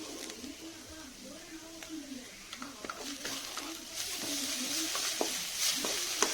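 Ginger garlic paste sizzles in a pan while egg pasta is being cooked, giving a steady close frying hiss with occasional stirring scrapes and a faint voice underneath.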